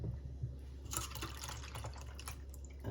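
Half and half pours into a bowl as a faint, brief liquid stream over a low hum of background noise, close by, with no voices.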